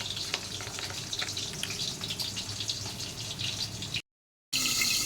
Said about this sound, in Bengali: সব মাছগুলো আমি ভেজে নিয়েছি, লাল লাল করে ভেজে নিয়েছি